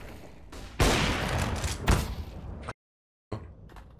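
Gunfire in the Valorant shooter on the Mirage map: a loud, dense burst of rapid shots close up, with a sharper blast midway, then a sudden cut to silence before noise resumes.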